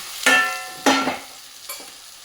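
Eggplant and potato pieces being stirred into masala in a pan: two firm scraping strokes and a lighter third, with a soft sizzle underneath, close and fairly loud.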